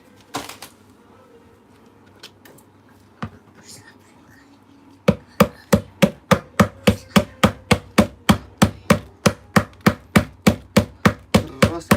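Prying open a piggy bank: scattered knocks and scrapes give way to a fast, regular run of sharp hard taps, about two per second, close and loud, with faint voices early on.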